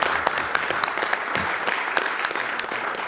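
Loud, sustained applause from a crowd at a speedrunning marathon event during a Kingdom Hearts 2 Final Mix run, with many hands clapping in a close, even, crackling roar.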